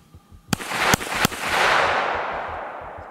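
A muddy Hi-Point pistol fires three sharp, loud shots in quick succession outdoors, each crack followed by a long rolling echo that fades away.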